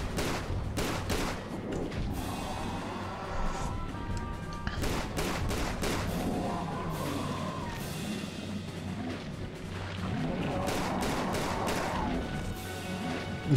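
Gunfire in Tomb Raider: The Angel of Darkness during a boss fight, repeated bursts of shots and impacts in clusters across the span, with crashing thuds between volleys and no talk.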